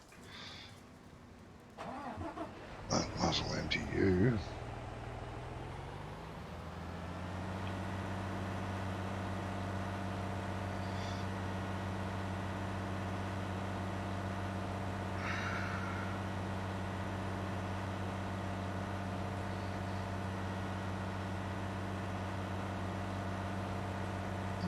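A truck engine in Farming Simulator 19 cranks briefly after a few clicks and clatters, catches, then settles into a steady low idle that drones on, with a short line of speech near the start.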